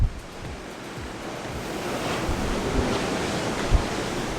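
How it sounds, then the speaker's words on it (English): Big North Atlantic waves surge and crash beneath a cruise ship on a transatlantic crossing, with a steady roar of surf and strong wind buffeting the microphone throughout; no one speaks. "Some pretty big waves out here."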